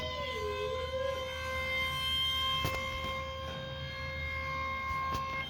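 An Ohio emergency alert siren wails in a loud, steady, sustained tone with layered pitches. The sound continues unbroken, with no talking.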